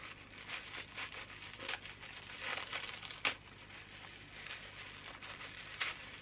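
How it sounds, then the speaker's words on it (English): Paper crinkling and tearing in short irregular bursts, close by, with a few sharper rips standing out; no talking. "So I'm just ripping through the package"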